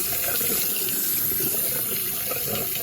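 Hot water runs from a faucet in a 2016 Camp Lite 21RBS camper trailer, a steady, close splashing stream into a sink, constant and moderately loud with no talking.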